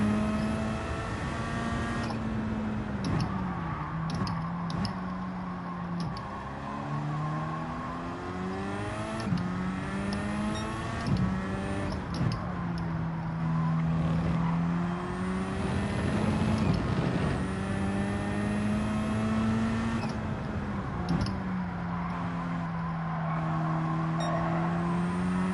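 A race car engine in Gran Turismo 7 drones and revs through repeated gear changes, pitch climbing and dropping in waves, loud and continuous with no talk.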